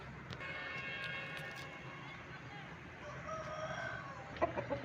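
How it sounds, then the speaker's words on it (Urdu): Full-size Sawa roosters crow on a Pakistani poultry keeper's yard, a drawn-out cock-a-doodle-doo at moderate distance over steady background noise, with a few clucks near the end. "یہ ساوا مرغے، ٹھیک ہے، فل سائز مرغے ماشاءاللہ"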